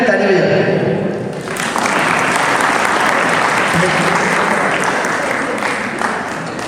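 A crowd claps loudly and continuously at a Jain procession and ceremony in Saharanpur. A voice speaks at the start, then the dense applause carries on for several seconds.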